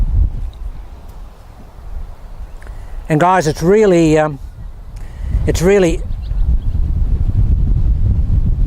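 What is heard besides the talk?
wind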